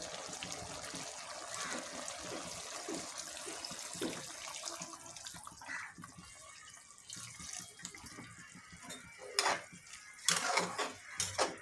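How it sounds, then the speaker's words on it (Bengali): Broth poured into a simmering fish and bottle gourd curry, a soft steady trickle and splash with a few light clinks of a pot or utensil, close and fairly quiet. "আমি আরেকটু ঝোল দিয়ে দেবো এখন।"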